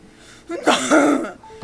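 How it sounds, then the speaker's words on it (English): A single harsh cough from a video game character, close and fairly loud, with a short throaty burst and a trailing rasp. "coughing was heavier this time"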